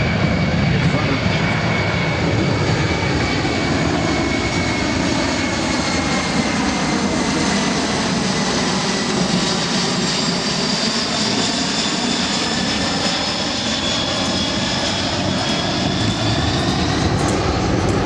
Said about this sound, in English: Now the C-17 is going to show its ability to fly at slow speeds